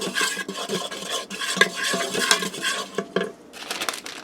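Whole spices bloom in hot oil inside a pressure cooker pot, crackling and spattering in uneven bursts with scraping and clinks from stirring against the metal.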